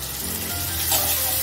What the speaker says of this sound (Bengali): সমস্ত মশলা যে একসঙ্গে পেস্ট করা ঠিক না, মানে একসঙ্গে জল দিয়ে গুলিয়ে রেখেছি সেটা আমি দিয়ে দিচ্ছি